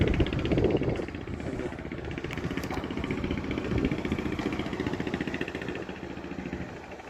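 Diesel engines of cargo trawlers on a river near Hatiya Island, Bangladesh, chug in a steady low rumble throughout, loud and continuous with a faint mechanical clatter.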